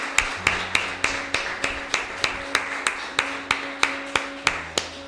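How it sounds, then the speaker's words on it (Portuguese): A church congregation at a Portuguese-language worship service claps hard and in unison, sharp evenly spaced beats about three per second, over sustained music. "Eu quero que você aplaude ao Senhor bem forte."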